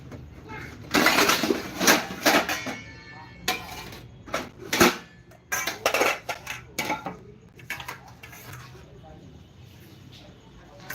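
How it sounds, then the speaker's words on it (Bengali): A pile of dishes, pots and cutlery clatters and clinks as it is sorted and stacked, with bursts of loud close knocks and scrapes that thin out toward the end, while someone talks intermittently. "এক গাদা বাসন এগুলো গোছাচ্ছি"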